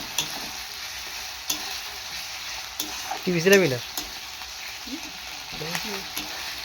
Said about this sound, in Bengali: এখানে আদা রসুন বাটা এখানে এটা দিয়ে দিব। দিয়ে ভালোভাবে একটু নাড়াচাড়া করবো